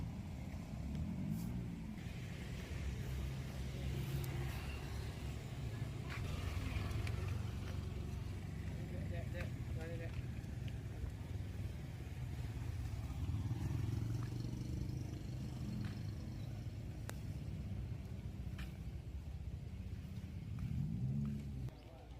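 Motorcycles at a two-wheeler parking lot in a former cinema building in Bukittinggi, producing a steady, close engine rumble with occasional revving swells throughout, with no talk.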